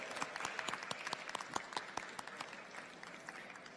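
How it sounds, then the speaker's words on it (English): Audience applause for guests at an International Day of Yoga morning event: steady, fairly distant clapping from a crowd that keeps a scattered, crackling texture throughout. "a big round of applause to all the distinguished guests and friends"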